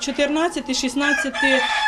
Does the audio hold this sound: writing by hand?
no